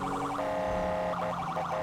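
Wailing police siren in GTA 5 roleplay, rising and falling in two clear sweeps over a steady engine drone, loud and close with no talk.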